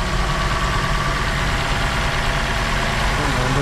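A flood-damaged Toyota Camry with an A25A-FKS engine runs after repair, a steady, close idling drone with a noisy drive belt tensioner, and a voice speaks briefly over it.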